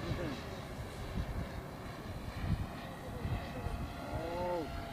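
A twin-engine RC Cessna 337 model plane accelerates slowly on takeoff, a steady engine drone under background noise with people talking over it.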